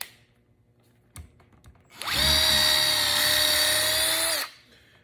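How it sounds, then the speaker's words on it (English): Milwaukee drill boring a hole in wood: after a faint tap, the motor spins up into a loud, steady high whine lasting about two and a half seconds, then stops sharply and leaves near silence. "you can also drill holes"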